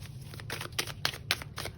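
Tarot cards are shuffled by hand in a quick burst of soft rhythmic riffling and flicking, quiet and close, with no one speaking.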